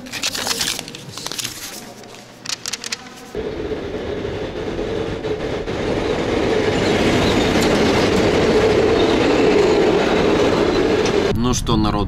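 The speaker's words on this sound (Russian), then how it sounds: "Ну что, народ, поезд уже тронулся" A train rolls along the rails with a steady, loud rumble and rattling clatter, after a few seconds of clicks and bumps.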